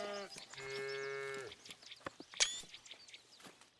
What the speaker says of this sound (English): Look at our cows.